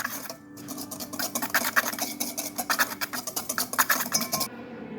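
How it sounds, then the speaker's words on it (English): A whisk rattles fast and rhythmically against a bowl while cornbread batter seasoned with cayenne is mixed, giving close, bright metallic clinking that runs steadily for several seconds, then stops abruptly. "whisk this well."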